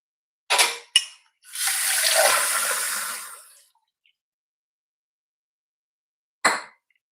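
Water poured into a mixer grinder jar of soaked rice for ghavane batter: a couple of short splashes, then a steady pour of about two seconds, with one more brief splash after a pause. No one speaks.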